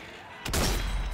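A single sharp sniper rifle shot cracks out in Zombie Army 4, a loud sudden blast after a short quiet lead-in, ringing out with a rumbling tail.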